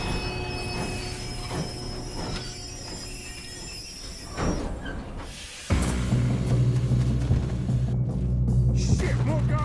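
A train in Red Dead Redemption 2 rumbles along with a steady low roar and high wheel squeal, and it grows louder and rougher partway through, with clanking and faint game sounds mixed in.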